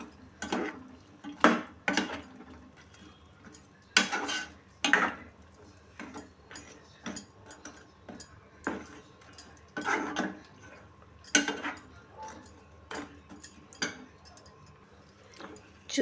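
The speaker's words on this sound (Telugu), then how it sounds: "ఇలా మొత్తం బ్రెడ్ వేసేసి అంతా బాగా కలిసే విధంగా కలుపుకోవాలండి" Bread pieces are stirred in a pan for bread halva: faint, irregular scraping and clinking of a spoon against the pan, in quiet short bursts with gaps between strokes.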